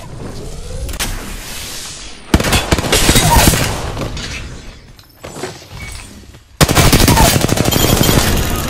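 Rapid gunfire bursts in the video game Apex Legends, loud and dense, arriving in several separate volleys with short gaps between them, no talk over them.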